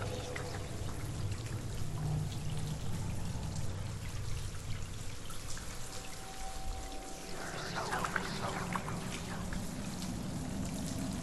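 Steady rushing water from a waterfall in the video game Hellblade: Senua's Sacrifice, a continuous broadband roar that stays even throughout, with a brief tonal hum partway through.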